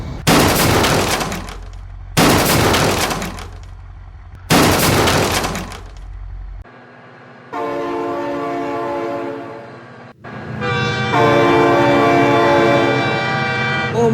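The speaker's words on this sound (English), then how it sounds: "Oh my god, train!" A cartoon train approaches in an animated truck scene: three loud crashing bursts, then long, blaring horn blasts that swell close and loud.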